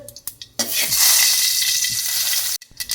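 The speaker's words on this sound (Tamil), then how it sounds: "இப்போ வந்து நம்மளுக்கு கடுகு சீரகமும் பொறிஞ்சிருச்சு" Mustard seeds and cumin spluttering in hot cooking oil, a loud, dense crackling sizzle that bursts in after a few quiet knocks, holds steadily for about two seconds, then cuts off abruptly.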